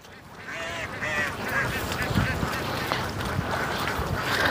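A flock of farmyard ducks quacking steadily near the coop, overlapping calls carrying on without pause, with no talk.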